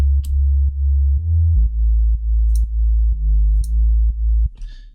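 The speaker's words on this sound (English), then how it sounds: "The sub bass is a sine wave with a lot of distortion" A deep, distorted sine-wave sub-bass tone plays a short repeating pattern of notes, with faint hi-hat ticks above, ending in a brief crash.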